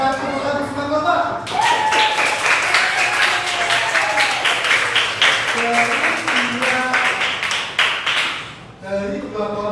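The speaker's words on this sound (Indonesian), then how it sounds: "Mari kita tepuk tangan semua kelompok." Classroom of students clapping for presenting groups in a computational thinking lesson: a burst of lively, dense hand claps building after a short spoken line, with a teacher's voice heard over and after the applause.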